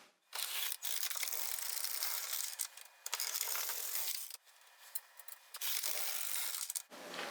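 Carriage of an LK150 knitting machine sliding back and forth across the needle bed, knitting rows of waste yarn: a dry, rasping scrape in long sweeps broken by brief pauses, close and steady.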